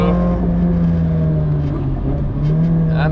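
Loud in-car engine drone of a Nissan S15 at speed on the Nürburgring, holding a steady pitch, while a Mazda Miata passes close by, its engine briefly rising over the roar.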